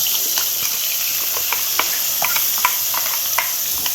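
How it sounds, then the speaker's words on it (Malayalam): Ground coconut paste for a pineapple pachadi sizzles steadily in hot coconut oil, with light scraping and clicking stirring strokes breaking through the constant hiss. "ഈ വെളിച്ചെണ്ണക്കകത്തോട്ട് നമ്മുടെ അരപ്പൊന്നിട്ട് ഇട്ട് കൊടുക്കാം"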